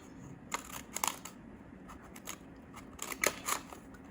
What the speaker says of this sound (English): Then you're going to cut here, and then you're going to cut the last one.